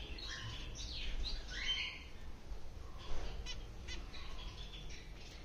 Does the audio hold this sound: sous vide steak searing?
no